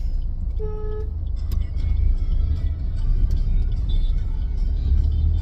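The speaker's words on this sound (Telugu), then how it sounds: "ట్రాఫిక్" Busy road traffic with a near continuous engine rumble, a short tonal car horn toot early on and fainter honks later, all fairly loud.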